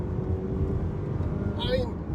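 The 2.5-litre four-cylinder engine of a 2021 Mazda CX-30 drones steadily as the car accelerates, a low continuous rumble heard from the cabin with a faint rising whine near the end.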